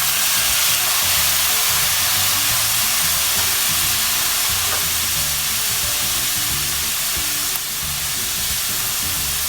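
Vinegar hits chicken sisig in a hot pan, a loud sustained hiss and sizzle with steam, steady and close for the whole stretch, no talking.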